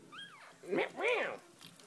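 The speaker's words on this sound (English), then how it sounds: "More puppies." Puppies give a few short high whimpers and yips, close by and fairly quiet, in quick succession.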